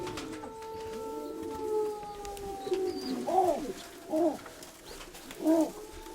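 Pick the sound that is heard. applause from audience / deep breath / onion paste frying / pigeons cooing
pigeons cooing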